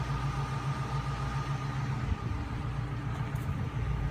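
A 1948 Cadillac engine runs smoothly at a steady idle, a soft low hum with a gentle pulse heard from inside the car, fairly quiet with no voices.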